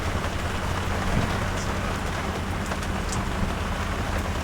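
Heavy rain pours steadily during a storm at sea on a boat crossing from Malta to Cartagena, Spain, a dense, loud, continuous hiss with no voices.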